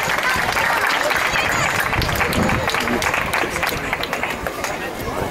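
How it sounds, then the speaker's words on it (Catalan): A crowd of children and adults at a Catalan children's book and music show applauds a young girl, loud busy clapping mixed with cheering voices and chatter throughout. "Un aplaudiment ben fort per a Matia."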